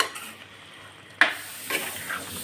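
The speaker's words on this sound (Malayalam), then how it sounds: "നന്നായിട്ടൊന്ന് മിക്സ് ചെയ്ത് കൊടുക്കാം." Curd being stirred into aviyal in a pan: a soft background sizzle with a sharp spoon scrape and a few quieter stirring clinks, close and low in level, with no talk.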